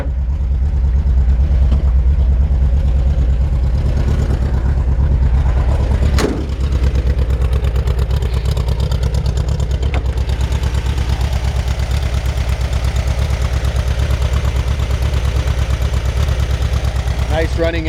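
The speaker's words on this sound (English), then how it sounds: "Nice running engine, low miles on a rebuild, brand new exhaust." A 1974 VW Thing with a low-mile rebuilt engine and a brand-new exhaust idles steadily and loudly up close, giving a continuous low rumble with one brief sharp knock partway through.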